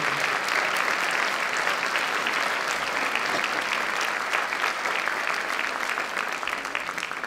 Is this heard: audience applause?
yes